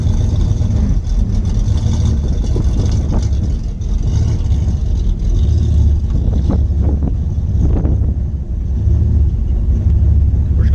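Turbocharged 351W Foxbody Mustang with a 6R80 transmission on a test drive, a loud continuous in-cabin engine drone with road and wind roar under light throttle.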